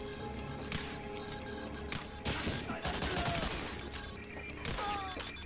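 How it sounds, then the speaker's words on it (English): Pistol shots in the World War II shooter Medal of Honor: Allied Assault, a few sharp cracks spaced out over steady background battle noise. "this pistol is a fucking beast"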